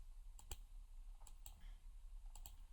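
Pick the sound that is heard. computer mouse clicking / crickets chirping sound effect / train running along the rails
computer mouse clicking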